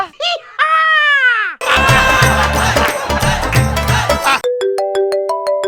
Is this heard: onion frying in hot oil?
no